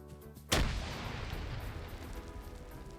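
A grenade explodes in a video game fight as one sudden loud boom that fades into a long rumbling roar lasting several seconds.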